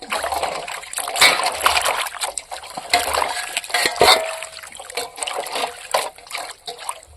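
Dried fish being washed by hand in a vessel of water, with steady trickling, splashing and sloshing close by and a few sharper splashes along the way.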